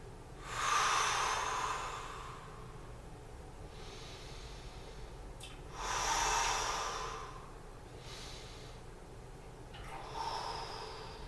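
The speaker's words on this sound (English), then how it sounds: "Take a couple breaths here." A man taking slow, deep breaths while holding a yoga pose, three long audible inhale-exhale cycles spaced a few seconds apart, close and fairly faint, with no talk.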